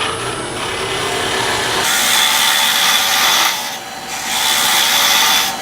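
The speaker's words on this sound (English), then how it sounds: "this is a planing cut with my skew chisel." Skew chisel taking a planing cut along a wooden tool handle spinning on a lathe, a steady close scraping hiss that swells and dips briefly near the middle before continuing.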